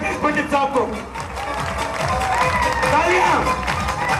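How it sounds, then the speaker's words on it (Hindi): Audience applause in a hall as a teacher is honoured and invited to the mic at a Guru Shishya Parampara event, a dense, steady wash of clapping under crowd noise and a voice for the whole stretch. "तालियां।"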